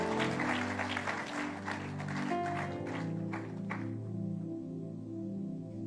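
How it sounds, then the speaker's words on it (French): Congregation clapping during a church service, a dense wash of applause that thins after a few seconds, over sustained organ-like chords and a low hum that continue after the clapping fades. "On acclame pour le Seigneur."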